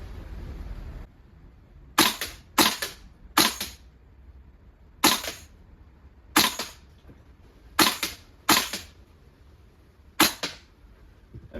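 A VFC V3 gas blowback airsoft rifle fires nine sharp single shots in irregular spacing, each a crisp snapping crack with a brief metallic clack of the cycling bolt, close to the microphone over a quiet background.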